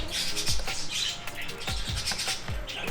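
Birds in a pet store squawk and chirp repeatedly in short sharp bursts, with several calls overlapping at moderate distance over a low background hum.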